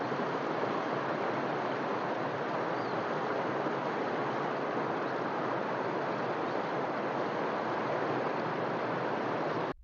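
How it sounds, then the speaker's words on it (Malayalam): A raging river swollen by heavy rain rushes past in a dense, constant roar of water, loud and unbroken for the whole stretch with no voices. "കലിതുള്ളി രൗദ്രഭാവത്തിൽ ഒഴുകുന്ന പുഴ ഒരു ഭീകരത തന്നെയാണ്"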